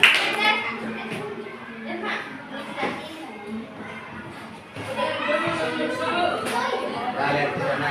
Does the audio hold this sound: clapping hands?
yes